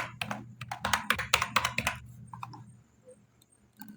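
Keys on a computer keyboard tapped in quick irregular bursts while a password is typed, close and crisp over a low steady hum, then slowing to a few isolated clicks.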